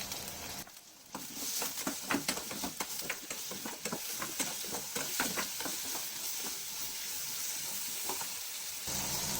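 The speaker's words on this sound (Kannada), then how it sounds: "ಈರುಳ್ಳಿ ಬೇಗ ಬೇಯೋದಕ್ಕೋಸ್ಕರ ನಾನೊಂದು 1/4 ಟೀ ಸ್ಪೂನ್ ಸಾಲ್ಟ್ನ ಆ್ಯಡ್ ಮಾಡ್ಕೊತೀನಿ." Onions frying in a few spoons of oil with a pinch of salt in a pan for Karnataka-style egg curry, a steady close sizzle with stirring scrapes and no talk.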